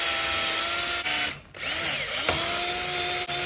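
A power drill with a freshly sharpened bit bores a hole during a 1982 Honda XR500R scrambler build, producing a loud, steady motor whine that briefly dips as the bit breaks through, then resumes.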